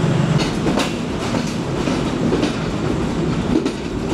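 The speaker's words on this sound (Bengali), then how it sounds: "খুলনা থেকে চিত্রা এক্সপ্রেস ট্রেনটি এখন ঢাকার উদ্দেশ্যে ছেড়ে গেল" The Chitra Express pulls out of Khulna station bound for Dhaka, giving a steady, loud rolling rumble with rhythmic wheel clatter and rail noise throughout.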